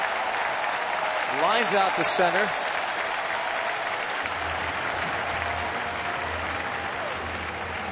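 Baseball crowd at a San Francisco at Pittsburgh game in June 2013, applauding and cheering in a steady, broad wash of noise that holds throughout while a commentator talks over it.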